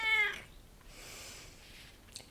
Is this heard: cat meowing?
yes